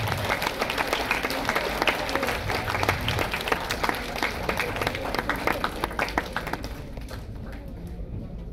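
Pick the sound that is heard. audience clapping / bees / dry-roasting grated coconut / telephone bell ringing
audience clapping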